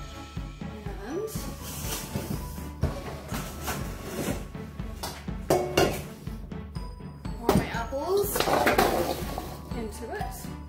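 Apples being stirred in a great big mixing bowl for caramelized apple sauce, a steady run of clinks, scrapes and knocks with louder clatter toward the end, with talk over it.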